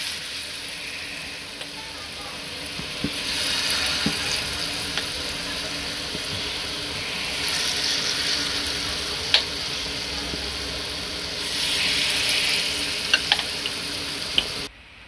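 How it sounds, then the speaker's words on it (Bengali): Lentil fritters frying in oil in a wok, a steady, moderately close sizzle with swelling bursts of crackle and a few sharp clinks of utensils, no talking. "এখন আরেকটা কড়াই বসিয়ে ডালগুলোকে ভেজে নিচ্ছি।"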